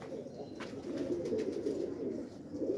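Teddy pigeons in a pair setup coo steadily in low, throaty rolls, close and continuous, with faint background noise and no talking.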